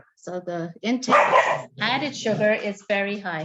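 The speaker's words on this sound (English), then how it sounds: "Sorry, that's my dog." A pet dog barks in a home during a talk on healthy eating, several sharp barks mixed in with a woman's steady speech, loud and close.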